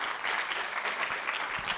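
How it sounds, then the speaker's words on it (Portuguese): Audience at an entrepreneurship event applauding a speaker; a dense, steady wash of clapping from many hands, fairly distant and even throughout the short burst, with no talk over it. "Vamos lá, palmas para ele"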